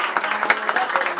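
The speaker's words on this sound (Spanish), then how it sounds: "que se escuche fuerte el aplauso, la bullita" A lively party crowd applauds at a mariachi birthday serenade, with dense, steady clapping for a short burst, close and fairly loud.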